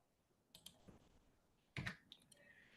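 Password keystrokes on a computer keyboard while setting up a Samba share: a few sparse, close clicks in short bursts with quiet gaps between them, no voices.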